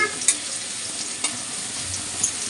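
Onions fry in a pan on a gas flame with a constant, close sizzle, broken by a few sharp clicks and scrapes of stirring; no one speaks.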